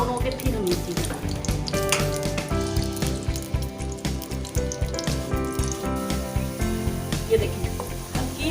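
Onions browning in a pan while cooking sarson ka saag, a steady crackling sizzle with occasional stirring scrapes and clinks, fairly close and continuous.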